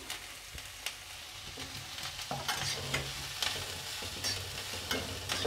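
Long-sliced capsicum and carrot for a spring roll filling are stir-fried in a pan, with a soft continuous sizzle under regular clinks and scrapes of the spatula, close and fairly quiet.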